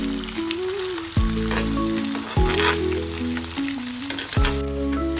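Pieces of already-cooked mutton crisp up in hot oil with a loud, continuous close sizzle, joined by recurring clinks and scrapes of stirring and a tonal hum that rises and drops.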